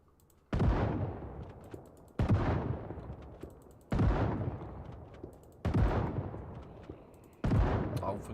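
Shotgun blasts aimed at zombies in Project Zomboid: five loud, sharp booms, each trailing off in a short decay, spaced evenly about every second and a half, with no talking.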